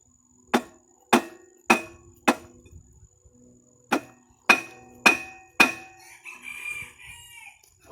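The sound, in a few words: dead blow hammer striking a rusted part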